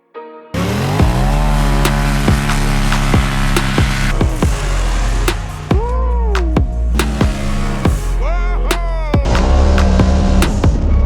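Big-turbo car engine held on two-step launch control, loud and close, with rapid rev spikes and sharp crackling pops between climbs, repeated bursts over about ten seconds, no talk.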